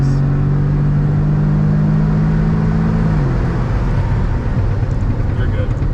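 A stage 2 E30 2018 8V Audi S3 revving hard under acceleration, the engine drone rising and then dropping as the transmission upshifts, loud and close inside the cabin.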